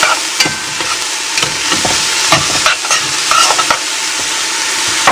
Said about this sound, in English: I'm going to add my onions. I've got about 2 cups of chopped onions.